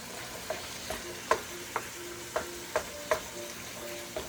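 Ground meat is stirred and cooked in a pan under a low, steady sizzle, with a spatula tapping and scraping about every half second, close and moderately loud.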